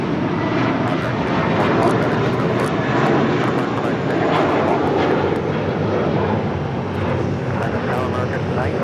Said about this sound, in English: That is United Airlines and Star Alliance livery flight 2434 coming in from Newark of the 757-200.